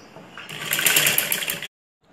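A sewing machine stitches the sleeve seam of a ladies' blouse in one loud, close, steady whirring run of about a second, then stops abruptly into silence.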